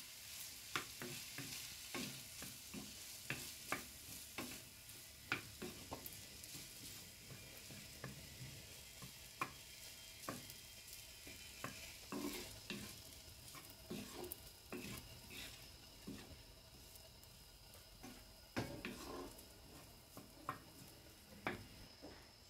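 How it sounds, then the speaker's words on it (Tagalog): Shrimp fried rice being stirred in a pan, with repeated sharp scrapes and clacks of the utensil over a low, continuous sizzle, close up and without talk. "Ayan, mix na po natin."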